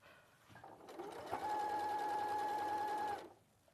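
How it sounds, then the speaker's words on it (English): A sewing machine stitches fabric up to a pivot point, starting with a soft lead-in and then running at a steady, even whir for about two seconds before stopping, close and alone. "Sew up to the pivot point and then lift the presser foot and just pivot everything round"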